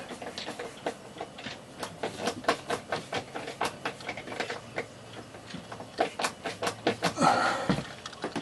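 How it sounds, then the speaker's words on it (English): Quick, regular ticking clicks from a hand screwdriver turning a screw into an RV interior storm window clip repeat steadily at close range, with faint room noise between them. "I'm using a hand screwdriver instead of a drill"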